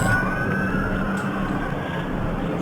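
Emergency sirens from a passing ambulance and fire truck wail loudly and steadily, with traffic rumble beneath, during a fire at Anaheim townhomes.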